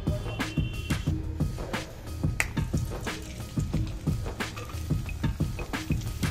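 Papad frying in hot oil, a steady crackling bubble with repeated sharp pops and spits running close and continuous throughout.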